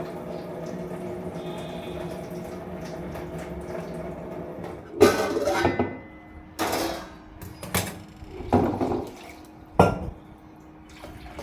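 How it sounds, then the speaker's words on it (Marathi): Hot water pouring out of a cooking pot past a lid held crosswise over it in a home kitchen, heard as a hum of background noise and then several loud splashing bursts. "त्याच्यावर असं झाकण ठेवलं ना आणि असं क्रॉस केलं ना तर सगळं त्यातलं पाणी आहे ते पूर्ण पाणी निघून जातं."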